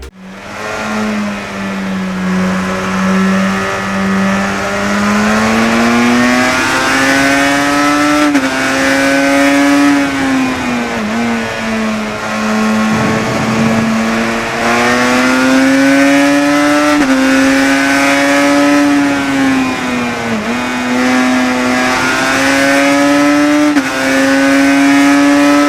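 Yamaha OW26 500cc GP racing motorcycle engine in the RIDE video game, a loud, steady high-revving howl with rising and falling pitch through gear changes, continuous and close with no talk.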